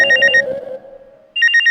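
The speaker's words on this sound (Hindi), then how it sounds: "ये तो मेरे फोन की घंटी।" A mobile phone ringtone plays loud and close: a quick run of bright repeating electronic tones, a short pause, then the tune starts again.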